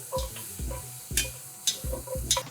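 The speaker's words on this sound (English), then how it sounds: "Now I'm gonna add my garlic, and I'm just gonna toast that for about 45 seconds" Garlic toasting in bacon fat in a single pan, a close, soft sizzle broken by several short stirring scrapes in an uneven rhythm, with no talking.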